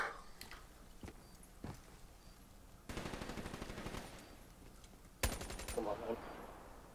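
Gunfire in Black Ops 3 multiplayer, with a few isolated shots, a sustained automatic burst, then a louder close burst near the end, all fairly quiet overall.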